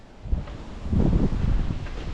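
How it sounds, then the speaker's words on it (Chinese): Strong headwind gusts over a roadside lined with loquat trees in Miyi County, Panzhihua, buffeting the microphone in low, uneven rumbling bursts that swell and persist, with no talking. "唯一的缺点就是风太大"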